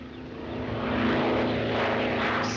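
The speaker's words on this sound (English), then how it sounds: "Oh. That must be Mr. Griffith's plane." A crop-spraying propeller plane flies in, its engine droning steadily and growing slightly louder as it approaches, with no voices.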